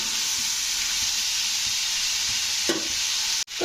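Pumpkin pieces with green chilli frying in a pan while being stirred, a loud continuous sizzle with scraping strokes, briefly interrupted near the end.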